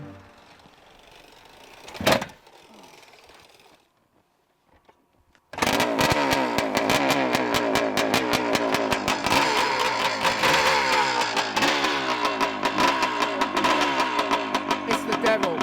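A Suzuki big-bore dirt bike engine, an early mass-production model, snarls into loud sustained revving after a quiet stretch with a brief thump, holding a rough, pulsing high-rpm roar close by.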